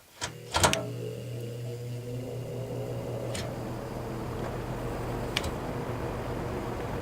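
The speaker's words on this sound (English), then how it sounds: "Here's the motor. Let's do a startup sound for you." A GE box fan motor spins up after a couple of sharp clicks and settles into a steady, quiet low-speed drone with faint whirring, close by and continuous.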